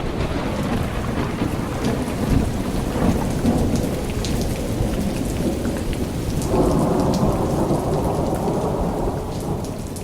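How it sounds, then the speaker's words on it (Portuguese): Heavy rain pours steadily and loud and close, with thunder rumbling through it and a denser wash of downpour building partway through; no voices. "Vamos aumentar a intensidade dessa chuva?"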